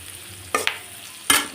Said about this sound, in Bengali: তারপরে একটু ভাজা ভাজা করবো